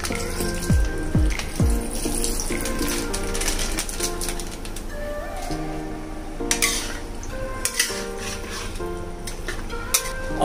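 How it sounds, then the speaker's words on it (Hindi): Leftover milk poured into a pan of cheesy white pasta sauce, a steady liquid pour with light clinks of cookware over background music. "बाकी बचा हुआ दूध भी डाल देंगे।"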